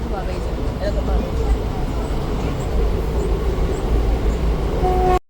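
Inside a moving passenger train on a college commute, a continuous rumble and clatter of wheels on rails, steady and close, with faint speech in the background.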